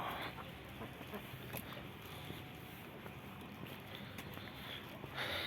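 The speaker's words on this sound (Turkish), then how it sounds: "Şu kazın güzelliğine bak" A goose in the open air of a clean town street in Ürgüp Ortahisar gives faint, scattered clucking calls over quiet background ambience, with soft footstep-like taps in between.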